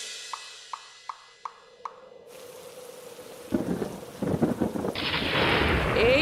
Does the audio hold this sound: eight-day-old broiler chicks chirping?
no